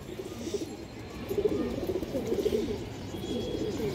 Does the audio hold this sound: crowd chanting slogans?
no